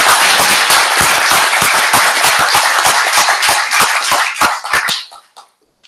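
A meeting audience at a New Jersey Pinelands Commission session gives a loud, dense round of applause. The clapping is sustained and close, then thins out into a few scattered claps before fading to silence.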